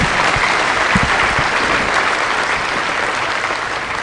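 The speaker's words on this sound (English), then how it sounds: "kindly ask you all to give a real hearty applause both for our president and for the family who have offered him to us." A crowd claps steadily and densely at the state burial ceremony of Kenya's late president Kibaki, a loud, continuous wash of applause that holds for the whole stretch and eases slightly toward the end.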